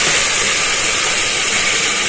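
Washed vegetables dropped into hot oil in a pressure cooker, giving a loud, steady, continuous sizzle and hiss with no pauses.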